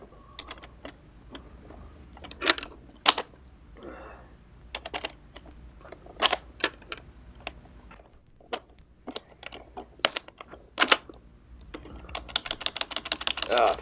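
Someone types on a computer keyboard with stuck keys, giving irregular bursts of clicky keystrokes, close and fairly loud, with pauses between flurries and faint speech in the background.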